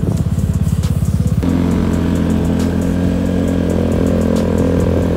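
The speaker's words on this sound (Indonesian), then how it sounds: "Karakter dari si knalpot CZ0 STD Racing-nya sendiri ini memang gue bilang tadi adem, ngebas, padat, dan ada suara khas dari CZ0-nya" A Vespa LXV 150 scooter fitted with a CZ0 STD Racing exhaust runs up close, first with a pulsing, lumpy idle, then a sudden rise into a loud, deep, steady exhaust drone.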